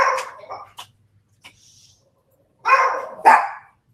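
Puppies bark in sharp short yaps at someone at the front door, a few scattered barks and then two louder bursts near the end, close and alone with no talk.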